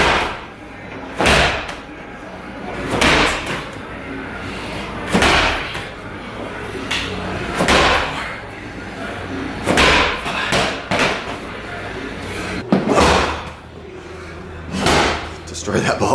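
A slam ball smashed down repeatedly during a workout, with sharp heavy thuds every couple of seconds, loud and close, as people talk between the impacts.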